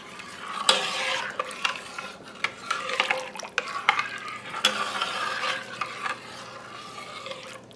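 Kielbasa and diced vegetables stirred in a soup pot, repeated loud scrapes and clinks of a utensil against the pot over a soft background sizzle.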